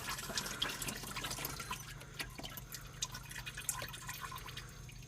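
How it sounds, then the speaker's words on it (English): Power steering fluid from a 2002-2008 Audi A4 1.8T or 2.0T dripping into a small catch container, a faint, steady patter of irregular drips against low background hiss. "a little container catching the fluid on the bottom"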